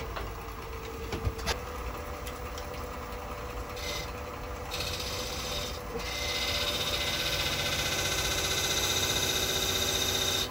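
A tool scribing a line on a wooden shell spinning on a woodturning lathe, giving a continuous scraping rasp over the lathe's steady hum, with a sharp tick early and the rubbing growing slightly louder near the end.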